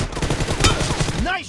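Rapid automatic gunfire in the mobile battle game BGMI, played on Santorini in team deathmatch with an M416 rifle: a fast, loud, close burst of shots with a brief voice callout near the end.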